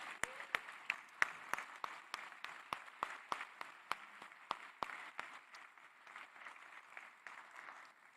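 Clapping at a Frankfurt School alumni event comes as a run of sharp, separate claps over a soft bed of broader applause, thinning out toward the end.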